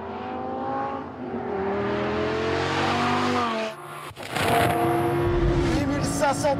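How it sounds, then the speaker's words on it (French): A Lamborghini LP570-4 V10 engine roars and climbs in pitch on a race track, briefly cuts out at the rev limiter, then screams again near the top of the revs, with a voice talking over it. "on entend le rupteur ici. Ah, le bruit du V10, c'est magnifique"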